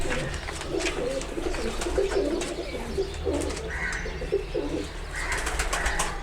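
Several pigeons coo in low, repeated bursts close by, with soft chirps and a steady background hum throughout.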